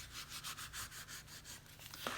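Cricut adhesive foil is burnished down by hand, giving a soft, close rubbing and scraping with a quick back-and-forth rhythm, quiet and steady.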